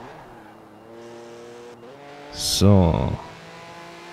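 A car's engine hums and rises in pitch as it drives in the racing video game Forza Horizon 4, with a short loud burst near the end and someone speaking briefly over it.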